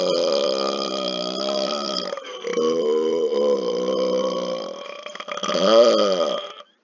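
A long, loud, drawn-out burp with a rumbling, voiced tone, briefly breaking off and then surging again, close up and alone.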